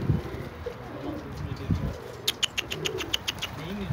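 Young pigeons coo in low, soft murmurs close by, then a quick run of wing flaps claps out near the end.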